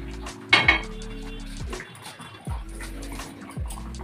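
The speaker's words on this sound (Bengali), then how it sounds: "আমি এদিকে তরকা বানানোর জন্য একটা প্যান বসিয়ে দিলাম" A metal pan set on the stove for tempering, with two clattering knocks early on, then lower clunks and a rattle. A hum starts and stops as the burner or an appliance cycles, and a gust of wind noise runs underneath.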